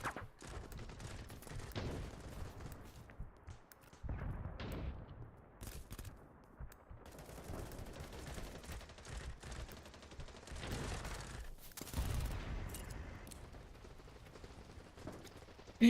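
Bursts of SMG gunfire from a first-person shooter video game, with repeated rapid volleys and clusters of shots at moderate loudness, continuing throughout without any speech.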